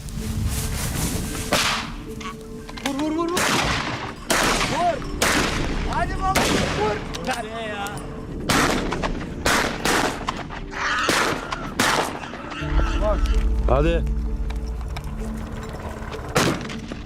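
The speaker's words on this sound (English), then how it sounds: "From the gunner's seat, I locked onto the target and fired." Rifle shots fired from a helicopter gunner's seat at wild boar ring out as repeated loud cracks, irregular and sometimes in quick bursts, over a steady rotor rumble, with occasional voices between the shots.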